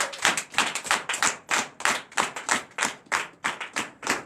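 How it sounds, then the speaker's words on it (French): A church congregation applauds during a night service of deliverance and prophecy, giving a steady run of loud, close hand claps in rhythmic bursts for several seconds with no talking over it. "Prenez encore une acclamation du Seigneur"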